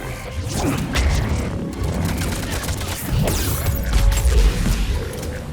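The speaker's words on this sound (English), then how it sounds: "There's that explosion again." Explosions and gunfire in the video game Mass Effect 3, a dense, rumbling clatter of blasts and impacts throughout, with a louder boom near the middle and another swelling toward the end.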